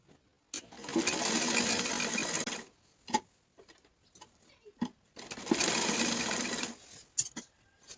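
Sewing machine stitching fabric for a coat collar neck on an open shirt, two long steady runs of rapid motor whirr separated by short pauses and a few clicks of handling, close and fairly loud.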